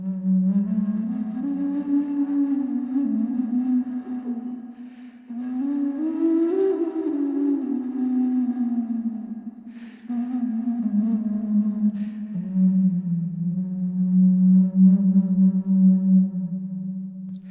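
A low, hollow, breathy tone drones steadily from an ostrich egg played as a wind instrument close by, with slight wavering pitch and brief pauses, and no talking.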